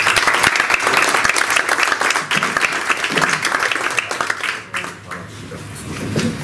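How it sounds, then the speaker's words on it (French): Audience applause at a live talk-and-discussion event, dense sustained clapping from a room of listeners that continues steadily for several seconds, dipping slightly near the end. "et on l'applaudir."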